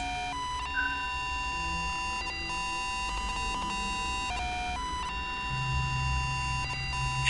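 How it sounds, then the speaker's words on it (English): Five Nights at Freddy's 3 audio cue as Springtrap enters Camp 5: a steady, loud electronic alarm-like drone with sustained beeping tones and a low rumble underneath, running continuously without speech. "Once Springtrap enters Camp 5, you'll hear this sound."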